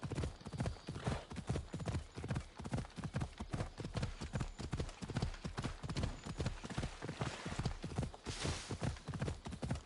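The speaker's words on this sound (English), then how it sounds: "My horse is going really slowly." A horse in the video game Assassin's Creed Odyssey gallops with dense, rapid hoofbeats in a continuous driving rhythm, loud and close, with no talking over it.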